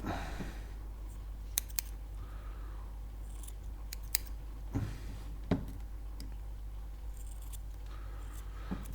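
Scissors snipping cotton wick for an Aromamizer Supreme RDTA vape atomizer, a few soft, sharp clicks spaced irregularly over a quiet, steady background hum.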